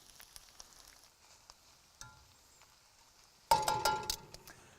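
Shallots and garlic hit a hot cast iron pan beside seared snapper, giving a sudden loud crackling sizzle near the end after quiet clinks and faint rustle, the frying spitting and popping close by.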